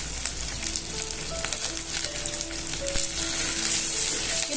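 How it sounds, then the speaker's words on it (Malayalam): Two kinds of chopped capsicum and green chillies sizzle loudly in a hot pan, a dense, continuous frying hiss with faint background tones. "ഇതിലേക്ക് നമ്മൾ അരിഞ്ഞു വെച്ചിരിക്കുന്ന ക്യാപ്സിക്കം 2 തരം, അതുപോലെ പച്ചമുളകും ഇടുക."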